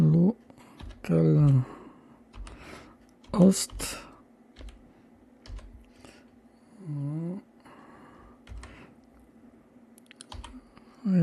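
Keys clack on a computer keyboard as a localhost address is typed in, the clicks coming in short bursts between stretches of someone talking nearby.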